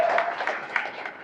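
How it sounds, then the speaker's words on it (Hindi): A brief stretch of dense audience applause fills a hall at a Muslim community conference in Maharashtra, a steady wash of many hands clapping together. "सब लोगों ने उनकी तालियों की गूंज में स्वागत करना चाहिए"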